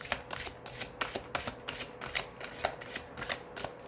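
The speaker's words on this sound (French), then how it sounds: "Je vais procéder maintenant au tirage avec l'oracle de Béline pour les Verseaux" Oracle cards being shuffled for a reading, a close, regular riffle of crisp card slaps repeating roughly every third of a second, alone without talk.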